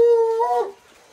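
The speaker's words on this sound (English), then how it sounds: "This is my dog, Peanut." A pet dog gives a single drawn-out howl that bends into a whimper, close and clear, fading after about three quarters of a second.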